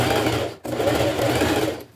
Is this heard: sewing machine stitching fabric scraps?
yes